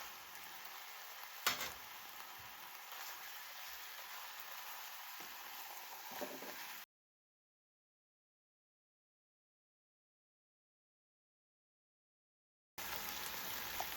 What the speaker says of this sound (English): And add the meat and stir fry together.